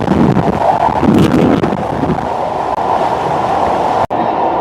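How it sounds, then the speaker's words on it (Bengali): Abhijatri commuter train crossing the Padma Bridge at 100 to 120 km/h, heard from inside the carriage as a loud continuous rumble with rattling wheels and wind noise, one brief dropout near the end. "100 থেকে 120 কিলোমিটার গতিতে পদ্মা সেতুর উপর দিয়ে চলছে আজকের আমাদের এই নতুন উদ্বোধন হওয়া অভিযাত্রা কমিউটার ট্রেনটি"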